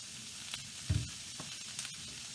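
Beef for zrazy browns in a pan with a steady, soft sizzle, a couple of faint clicks rising briefly above it, close and quiet with no voices.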